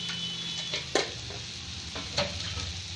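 Spices with turmeric, coriander powder and garam masala fry for a samosa filling, a steady close sizzle with a couple of soft spoon scrapes against the pan.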